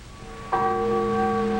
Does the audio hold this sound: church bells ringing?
yes